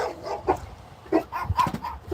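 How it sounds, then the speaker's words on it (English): A dog barks a few short, fairly close yips and woofs in a quick irregular burst. "No barking, no chasing."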